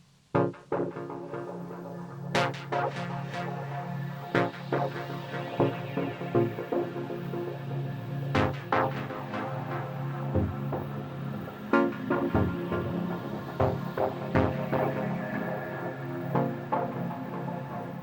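Dub techno synth chords in Ableton Live 12 pulse with shifting note lengths, some hits clipped short and others held, over a steady low throb, moderately loud with no voice.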